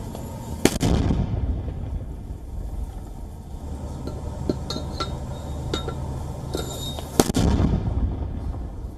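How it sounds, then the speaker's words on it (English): Mortars are fired in Gaza during wartime, with two sharp, loud blasts standing out above a constant rough outdoor rumble and scattered faint clinks, heard close up with no clear talk. "The group has released a video, it says, which shows militants allegedly firing mortars in Gaza"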